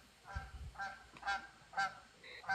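Canada geese honk repeatedly as they fly past, a series of nasal calls spaced about half a second apart, moderately distant over a quiet outdoor background.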